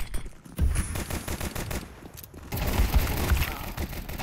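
Rapid gunfire in a video game shootout: dense bursts of automatic shots and explosions rattle continuously, loud and close, with brief lulls.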